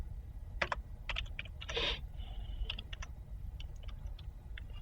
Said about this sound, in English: I will just type it out for you